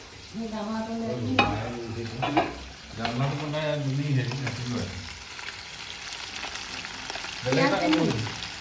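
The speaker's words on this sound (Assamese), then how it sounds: "ইফালে আলু ভাজি বনাই থৈছোঁ ইয়াতে" Potatoes frying in a pan on a home kitchen stove, a soft continuous sizzle running beneath a person talking throughout.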